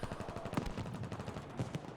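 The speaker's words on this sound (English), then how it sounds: "Jake goes down under a hail of gunfire from Captain there." Rapid bursts of automatic gunfire in a competitive team shooter video game during a capture-point fight, dense and loud throughout with several sharper shots standing out.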